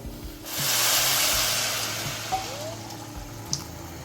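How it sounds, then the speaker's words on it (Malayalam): Water pours steadily into a pot in a brief rushing stream for about two seconds, then tapers off with a few faint clinks. "നമുക്ക് തിളച്ച വെള്ളം ഒഴിച്ചു കൊടുക്കാം"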